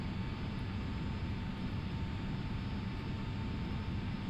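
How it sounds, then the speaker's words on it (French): A Cessna C208 Caravan turbine engine runs up, a steady broadband roar with a thin high whine held evenly throughout, close and continuous without speech. "le moteur est allumé"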